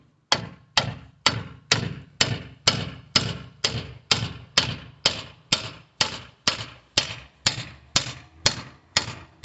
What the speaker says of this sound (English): try and hammer it on evenly if we can